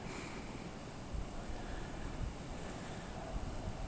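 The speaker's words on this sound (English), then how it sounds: "Oh, I'm so sorry about the wind." Wind buffets a microphone atop a lookout tower at Bernice State Park, a steady low roar with gusty rumbles and no voices.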